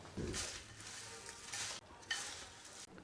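Puffed rice, chanachur, roasted peanuts and noodle masala are tossed together in a bowl, making quiet dry rustling swishes in several short bursts.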